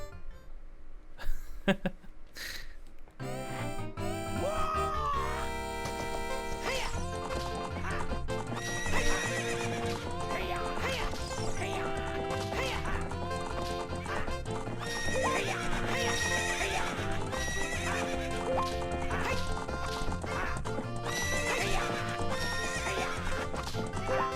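Audio from The Legend of Zelda: Ocarina of Time of a horse race: a galloping horse with repeated whinnies over a steady, busy music track; hoofbeats keep up a continuous rhythm throughout.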